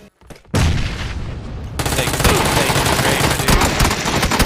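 Rapid, loud gunfire from a multiplayer shooter game, dense bursts of shots rattling almost continuously after a brief quiet start, with heavy booms mixed in.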